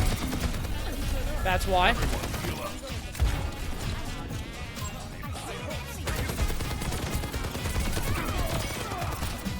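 Overwatch gunfire rattles in rapid bursts during a match, dense and continuous, heard beneath a voice.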